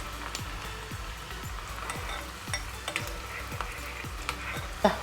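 Onions fry in coconut oil with a steady close sizzle, punctuated by regular stirring scrapes roughly every half second and a sharper clink near the end, no voices.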